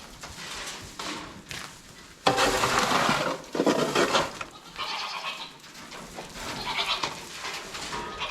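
Farm goats bleating and yelling loudly in repeated overlapping calls, some near and harsh, others further off, with rustling and shuffling between cries.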